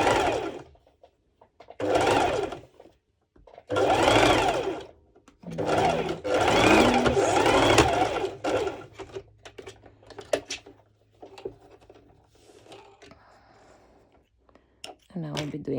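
A sewing machine runs straight stitches along the fabric borders of a lettuce-edge ruffled scrunchie in several loud, close bursts of whirring, then settles into quieter, scattered clicks and light handling noises.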